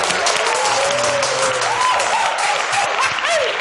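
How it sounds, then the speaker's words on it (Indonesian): A studio audience at an Indonesian police talk-show podcast claps in a brief burst of dense applause, with a few voices calling out over the clapping. "Tepuk tangan dulu dong"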